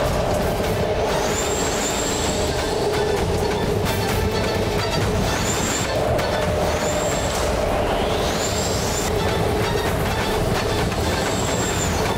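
A metro train runs steadily in an animated cartoon scene, with continuous rumbling wheel noise and repeated rising brake-like squeals every couple of seconds, loud and close throughout.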